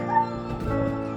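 Puppies give a close, steady high-pitched whining yelp, drawn out and tonal rather than short sharp barks.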